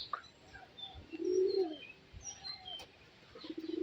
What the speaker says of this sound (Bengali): মোট চারটা কবুতর চার চারটা কবুতরের মুখ